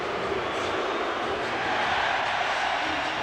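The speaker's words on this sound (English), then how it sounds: "Crowd getting behind Canada here in Philadelphia" A packed arena crowd at a 1996 World Cup of Hockey semifinal in Philadelphia, Canada against Sweden, roars for Canada: a loud, dense, continuous wash of cheering and voices with no break.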